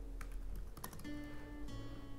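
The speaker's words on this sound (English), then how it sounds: "I'm just going to type my name" Quiet typing on a computer keyboard as a name is entered into a business card design, a few soft scattered key clicks over a steady background hum, with no talking.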